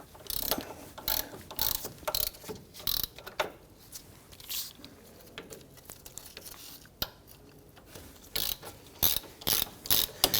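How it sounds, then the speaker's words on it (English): Ratchet with a 17mm socket loosening caliper and bracket bolts on a 2011-2015 Kia Sorento, a series of quick clicking bursts, some rapid and some spaced out, close up with short quiet gaps and no talk. "We're going to use our 17mm socket to go ahead and loosen these bolts."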